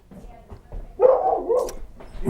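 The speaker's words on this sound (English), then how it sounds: "we have the dog outside here." A dog outdoors gives a few barks and whimpering yips, moderately close, rising after a quiet moment.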